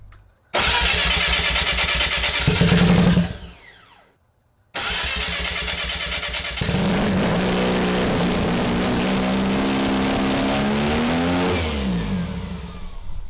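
A rotary-engine-swapped Subaru FRS starting up: a loud, close crank and catch, a brief cut-out, then a restart into a high, steady idle with a rising rev and a drop near the end.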